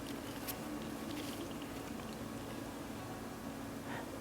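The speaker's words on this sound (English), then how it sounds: "turn slowly and pour out." Amaco Deep Firebrick glaze poured out of a ceramic mug, a faint, steady liquid trickle and gurgle lasting a few seconds with no voices.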